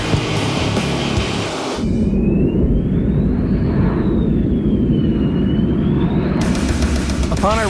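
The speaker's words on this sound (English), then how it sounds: "Throttling up to full power, we took to the wild blue and circled around again." F-14 Tomcat fighter jet at full throttle, a loud steady roar of jet engine noise filling the scene with a sweeping whine over it, bracketed by brief cockpit-like noise at start and end.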